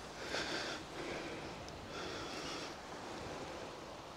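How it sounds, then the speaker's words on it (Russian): Soft surf from the sea at a beach near Novorossiysk, gentle waves washing in two or three slow swells under a breathy wind, quiet and somewhat distant, no voices. "Море какое!"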